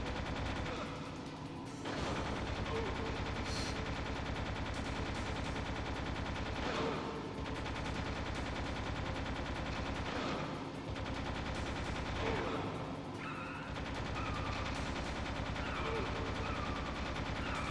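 Video game gunfire in Metal Gear Solid, with dense, loud bursts of automatic shots repeating almost continuously, broken by a few short pauses and occasional heavier blasts.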